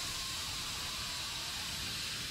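Steam hissing from a pipe in the horror video game Outlast: Whistleblower, a loud, steady broadband hiss that fills the whole moment without pause, no voices over it.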